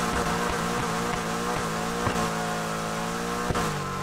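A Golf GTI 76 in the racing game Need for Speed Heat pulls away from a standstill, its engine roaring steadily and climbing through the revs with short breaks at each gear change, loud and close throughout.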